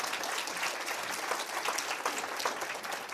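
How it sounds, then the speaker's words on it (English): A room full of people clapping steadily at a summit, dense and sustained applause with no talking over it. "Let's give a round of applause in thanking the Minister for those comments as well."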